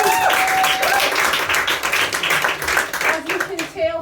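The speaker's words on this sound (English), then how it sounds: "Y'all give yourselves a round of applause." A comedy club audience in Brussels bursts into applause, a dense wash of clapping hands with some voices mixed in, loud and close, running the full length before it thins out at the end.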